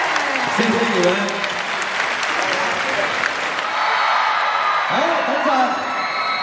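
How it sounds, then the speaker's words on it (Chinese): An audience at a China women's volleyball team event in Hong Kong gives sustained applause, with scattered whoops, while a host talks over the clapping through a microphone. "掌声欢迎中国女排，来，掌声欢迎"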